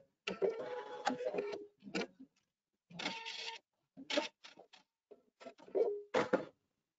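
An embroidery machine stitches out the first color of a design, a line, in intermittent mechanical bursts of rapid whirring and clatter separated by short silences.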